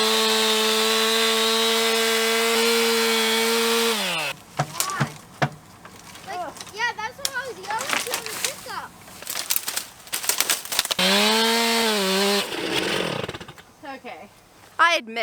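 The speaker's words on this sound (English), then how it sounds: "So I think the chainsaw is like super dull." Dull chainsaw revving steadily and loudly for about four seconds while cutting down a tree, then broken sawing, rubbing and rattling with intermittent bursts of engine noise, the saw briefly running up again near the end.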